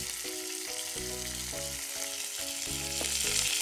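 A tempering of fenugreek seeds, broken red chili, curry leaves and asafoetida frying in hot oil, an even crackling sizzle beneath soft background music, with no voices.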